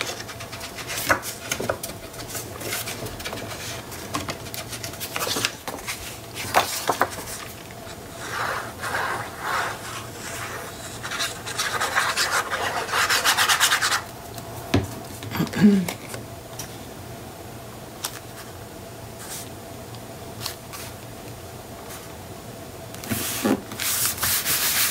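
A kneaded eraser rubs a pencil mark off paper in short, soft scrubbing bursts with pauses between strokes, close and quiet, and a person talks at times.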